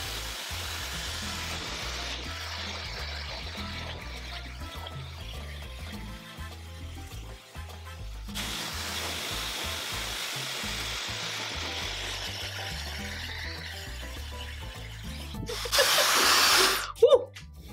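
Fentgo high-speed ionic hair dryer running on hot with no attachment, a steady strong blowing whoosh that changes as the airflow moves, ending in a louder, brighter burst near the end.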